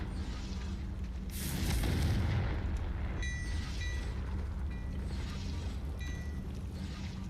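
Loud magical Confringo fire-blast spell from a wizarding video game, a broad whooshing roar swelling and bursting over about a second, then fading into a low rumbling ambience with faint tonal chimes.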